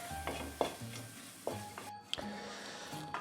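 Masala powders fry in a pan while being stirred for Angamaly-style pork and koorka, with a steady low sizzle broken by repeated scraping and clinking of a spoon against the pan, close up.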